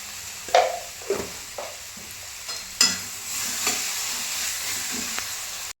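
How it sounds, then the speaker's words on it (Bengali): Papaya curry cooking in a pan as fried spice mix is sprinkled over it, a steady soft sizzle with several sharp spoon knocks and scrapes against the pan, close and clear. "এখন আমি এই ভাজা মশলাটা, এই বানিয়ে রাখা ভাজা মশলাটা একটু ছিটিয়ে দেবো।"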